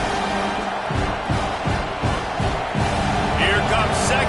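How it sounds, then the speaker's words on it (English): A college football stadium crowd at New Mexico State versus Tennessee roars and cheers in rising swells, loud and continuous, with a commentator's voice talking over it. "this crowd is turning it up a notch"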